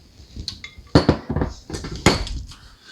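Kitchen bowl and dishes clinking, a handful of sharp close ceramic and metal knocks in quick succession, loud and alone with no talk.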